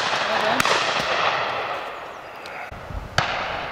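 Shotgun fired at a partridge during a January pheasant and partridge shoot outdoors: a couple of sharp, fairly distant reports over steady wind and field noise, with people talking.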